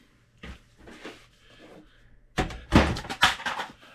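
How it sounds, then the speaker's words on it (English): A tape gun knocked over on a work table, a cluster of loud clattering thunks and bumps after a few softer handling knocks, close by in a quiet room. "That's me knocking my tape gun over."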